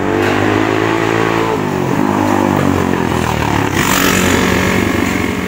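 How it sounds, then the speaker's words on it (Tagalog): Loud motorcycles passing close by on a street, engines roaring and revving steadily with a rising, shifting pitch as one passes, with no voices. "Grabe mga motor nga sabak kayo ang tingog"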